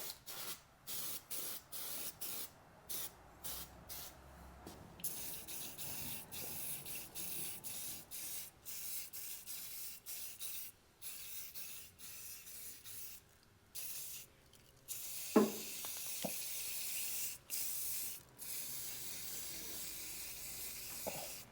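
Rust reformer primer sprayed from an aerosol can inside a kick panel of a 1975 Ford F-150 truck, a series of close hissing bursts with short gaps, some longer sustained sprays.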